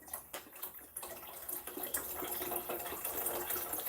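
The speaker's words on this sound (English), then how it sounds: "I added more water and chicken flavor bouillon." Water runs steadily into a large old-fashioned cooking pot, a continuous splashing pour that fills the space alone, with no talk over it.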